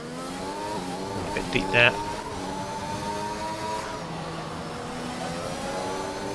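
A race car engine in a Monaco racing video game, droning at steady high revs with rising and falling gear pitch and a brief tyre-squeal burst, under quiet commentary talk.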